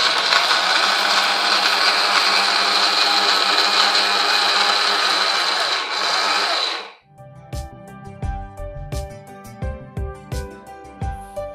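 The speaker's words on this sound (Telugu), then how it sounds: "మినపిండి బెల్లము కలిపి గ్రైండ్ చేసేసుకున్నాం కదా" A mixer grinder whirs loudly and steadily as it grinds urad dal flour with jaggery, then cuts off at about seven seconds and gives way to rhythmic knocking and thudding.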